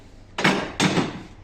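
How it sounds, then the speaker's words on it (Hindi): A hammer taps a screwdriver used as a punch to mark a BMW electric power steering rack, giving two quick, close metallic knocks about half a second apart. "इसको इधर से थोड़ा सा पंच कर दें"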